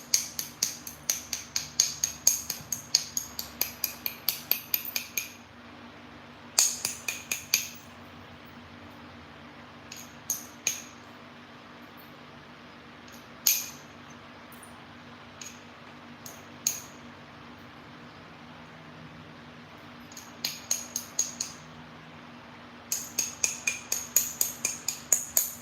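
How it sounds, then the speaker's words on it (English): Sharp clicks and small snaps from flint knapping as a stone point is beveled, heard close in irregular bursts with quiet pauses between clusters. "So now I'm starting to put a bevel in this point."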